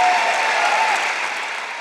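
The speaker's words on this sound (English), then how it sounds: "Ruckus applause." Loud, dense audience applause from a large crowd at a Joyce Meyer teaching event, a steady wash of clapping that holds throughout and eases off slightly toward the end.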